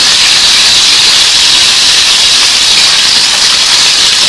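Garlic frying in a hot pan on the stove for an Egyptian fatta garlic sauce gives a steady, loud, unbroken sizzle with no pauses.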